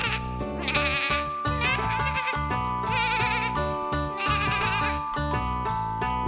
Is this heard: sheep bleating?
yes